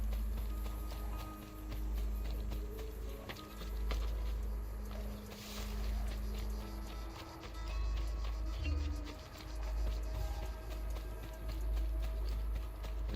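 Horse hooves clip-clop in the video game Assassin's Creed II, a steady run of hoofbeats under a low droning game background with faint voice-like sounds.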